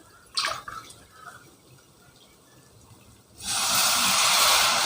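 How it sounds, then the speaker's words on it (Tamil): After a few soft clinks, a steady rush of water pours loudly into a pot for the last couple of seconds, one and a half glasses for cooking biryani. "இப்போ இதுக்கு நான் ஒன்றரை தண்ணி ஒன்றரை கிளாஸ் தண்ணி ஊற்றிக்கிறேன்"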